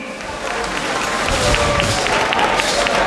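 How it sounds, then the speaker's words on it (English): Audience applause fills a political party launch event, a dense, steady wash of clapping from a large crowd that swells slightly and holds throughout, with a few voices mixed in. "A round of applause for Mr. Emmanuel Wilson."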